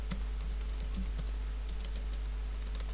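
Rapid clicking keystrokes on a computer keyboard, fairly close and steady across the whole stretch, over a low constant electrical hum with no speech.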